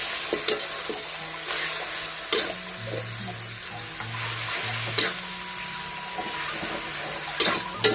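Oncom for a genjer stir-fry is tossed in a hot pan, producing a steady close sizzle broken by repeated spatula scrapes and stirs, with a low hum beneath and no talking.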